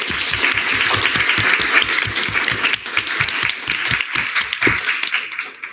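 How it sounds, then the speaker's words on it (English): Audience applause at a student senate meeting, with dense clapping from many people nearby. It is loud at first, then thins and tapers toward the end. "another round of applause for him, please"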